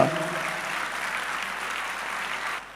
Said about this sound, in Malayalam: കൈയടിച്ച് കർത്താവിനെ സ്തുതിക്കട്ടെ